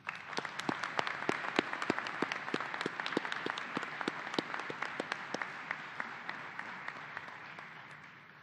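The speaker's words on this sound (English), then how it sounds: "Please join me in giving all of them a round of applause" At a law school commencement ceremony, a large audience applauds with sharp individual claps standing out over a dense, steady wash of clapping that fades slightly toward the end.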